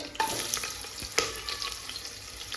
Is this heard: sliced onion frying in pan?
yes